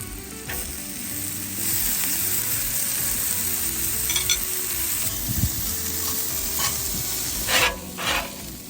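Jalapenos, bell peppers and onion sizzle loudly in olive oil on a hot Blackstone griddle while a utensil scrapes and stirs, with a few clinks near the end and no speech.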